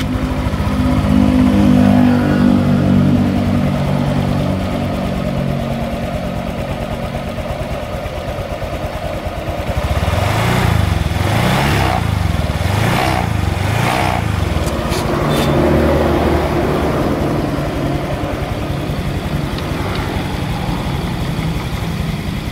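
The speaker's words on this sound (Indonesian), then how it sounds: "sekarang saya akan mencoba menghidupkan motor ini" A cold Honda Vario F1 scooter engine is started, then runs steadily at idle for a long stretch, close and fairly loud, with rhythmic low throbbing and a few brief rises in pitch partway through.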